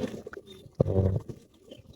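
Pet pigeons coo softly, one short throaty coo standing out mid-way among faint scattered sounds, close and quiet with no talk.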